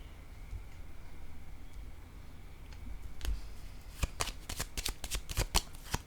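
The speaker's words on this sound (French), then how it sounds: "Je vais déposer une carte en la zone du Cupidon." Tarot cards are handled on a table during a reading: quiet room tone at first, then a burst of sharp papery snaps and flicks near the end, close and crisp, with no voice.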